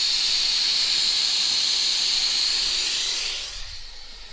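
A van's air suspension airbags being deflated give a loud, steady, close rush of escaping air that holds for several seconds before tapering off.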